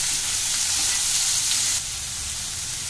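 Chopped onion frying in a tablespoon of hot oil, a loud, close, steady sizzle that drops slightly in intensity partway through.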